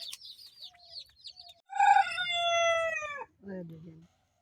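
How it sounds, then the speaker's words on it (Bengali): A large chicken gives one loud, drawn-out crow, close to the listener. Short clucks and squawks come before it, and a lower cluck follows. "এই মুরগিটা দেন কত বড় এটা"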